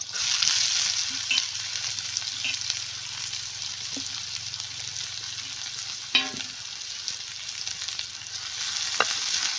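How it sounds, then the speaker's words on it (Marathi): Onion fries in a pan of oil with fried garlic, giving a continuous, fairly loud hissing sizzle throughout, with a few faint taps of a spatula. "आता यामध्ये आपण कांदा टाकून घेऊया"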